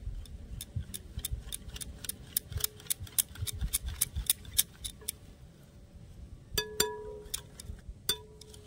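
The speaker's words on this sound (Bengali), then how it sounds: "এবার ভালো করে তেলটা মিশিয়ে নেব।" A spoon or whisk clinks rapidly against a bowl while white oil is mixed into a spicy Bengali jali pitha batter, a steady run of bright metallic ticks with a few louder knocks near the end, no talking.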